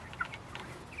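Broiler meat chickens clucking and chirping close by, a few short soft calls scattered over about a second with no voices.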